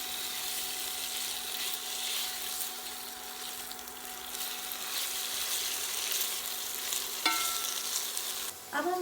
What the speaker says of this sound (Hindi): इसको हम लहसुन अदरक के साथ भून लेंगे।